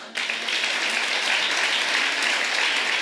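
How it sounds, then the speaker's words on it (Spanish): Church congregation applauding loudly, a burst of many hands that starts abruptly and continues as a thick, sustained clatter. "Así que dése un fuerte aplauso."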